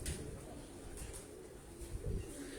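Pigeons cooing on a rooftop loft, soft low repeated coos under steady background hum and faint outdoor noise.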